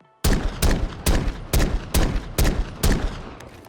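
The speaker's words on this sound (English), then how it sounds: "now let's do a full mag dump and check out the alternative reload" A Desert Eagle pistol fires a full magazine in the Fallout 4 video game: seven loud, evenly spaced shots follow a quiet start, each a sharp crack with a short tail.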